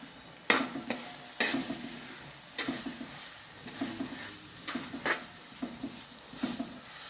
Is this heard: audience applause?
no